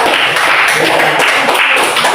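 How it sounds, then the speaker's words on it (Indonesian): A class of pupils applauds group 3 in an Islamic religious education lesson, with dense, steady clapping filling the room at close range for the whole moment. "tepuk tangan untuk kelompok 3"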